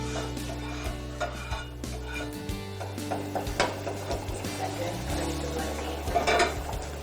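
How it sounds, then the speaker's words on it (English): Cornmeal being stirred hard in a pan for a Rwandan rice bowl meal, a steady scraping and clattering of spoon against pot that runs throughout, with a faint low hum underneath. "The cornmeal takes a lot of muscle to stir to make sure it's a good consistency"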